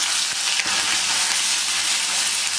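Crushed shallots and chillies frying in coconut oil after the mustard seeds have popped, a dense, steady sizzle that stays loud and close from start to finish, with no voices.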